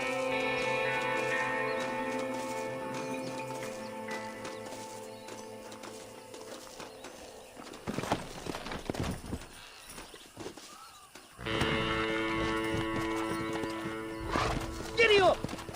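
A horse in the video game Red Dead Redemption, with hooves clip-clopping in a steady rhythm and a whinny, under game music and people talking.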